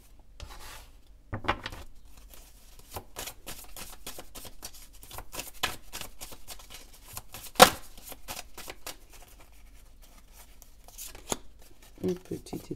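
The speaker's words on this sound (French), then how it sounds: "On va prendre une carte." Cards are handled and drawn from a deck during a reading, with soft repeated rubbing and sliding sounds and a few sharper flicks, faint and close, alongside intermittent talking.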